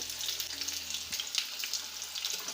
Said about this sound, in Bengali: কড়াইয়ে তেল দিয়ে নিচ্ছি আমরা এখানে আলু তারপরে কচুটা একসাথে ভেজে নেব